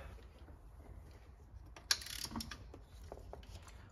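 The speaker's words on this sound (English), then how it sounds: "So if you just get a 16mm socket on there, and then you can move it up and take the belt off" A ratchet with a 16mm socket works on a BMW auxiliary belt tensioner bolt, making a faint metallic click and a short clatter of tool movement at close range in an otherwise quiet workspace.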